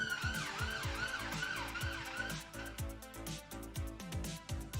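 An ambulance siren wails up and down in rapid repeating sweeps, loud and close, with traffic rumble underneath.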